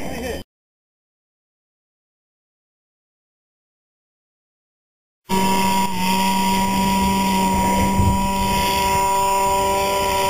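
Big Stik RC model airplane motor during an FPV takeoff, a loud steady buzzing drone with strong harmonic tones that starts abruptly after several seconds of silence and holds continuously to the end.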